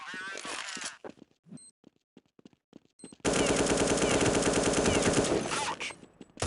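Submachine gun fire in a video game: scattered short bursts and single shots give way to a long, loud, continuous burst of rapid automatic fire lasting about three seconds, with faint radio-style voice chatter in the early gaps.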